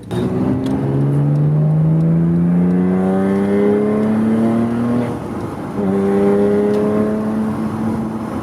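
A Porsche 911 (997) Carrera S accelerates hard on the road, its engine note climbing steadily and loudly, then dipping briefly at a gear change before rising again, heard alone without voices.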